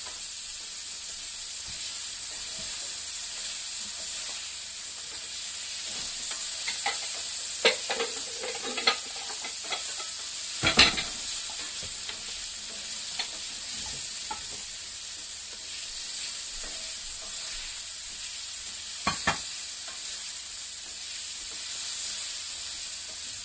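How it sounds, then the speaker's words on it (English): Pork searing in a hot pan beside cooking celery, a steady quiet sizzle and hiss running throughout, broken by a few sharp clinks and scrapes of utensils, with no talking. "we are going to actually put the pork in here while we sear it"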